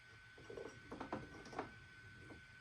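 Small plastic-and-metal needle threader on a home sewing machine clicking and ratcheting, a few quick soft mechanical clicks and ticks close up, quiet and alone.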